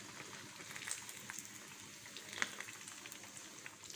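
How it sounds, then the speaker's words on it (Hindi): Rohu fish pieces fry in hot ghee with a faint, even crackle and light popping in a quiet kitchen. "व्यूअर्स हमने गरम घी में फ़िश डाली थी, ठंडे घी में हम नहीं डालेंगे"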